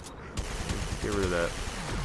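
Turrets firing in a video game, rapid rattling bursts of gunfire mixed with whooshing effects, heard under a man's brief speech.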